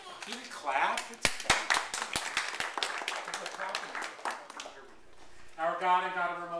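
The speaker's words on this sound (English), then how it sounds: "You can clap." Scattered claps, a handful of sharp distinct hand strikes rather than full applause, come from guests at a baby naming ceremony, mixed with talking voices nearby.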